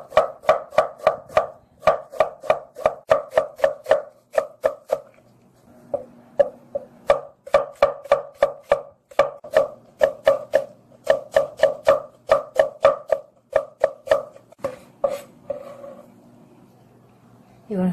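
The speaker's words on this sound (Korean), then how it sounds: "배는 반절 정도만 썰어주세요" A knife slicing pear on a cutting board, giving a long run of crisp, evenly paced chops in quick bursts separated by short pauses, loud and close, with quiet speech in the gaps.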